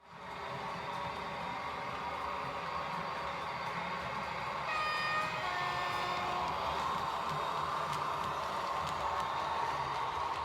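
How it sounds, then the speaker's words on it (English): Model railway trains run continuously on a layout, a steady rolling rumble and whine with faint squeals partway through; the running does not audibly stop. "So I'm going to stop the trains now"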